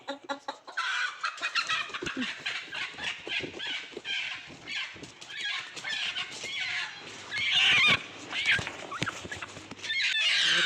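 Broody village hen clucking and squawking up close in agitated bursts, with some softer sounds between calls and no speech.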